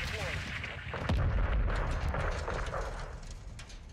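Gunfire and distant blasts in the video game Call of Duty Modern Warfare 2, sharp cracks and a heavier thump amid steady battlefield rumble, moderately loud with some talk around it.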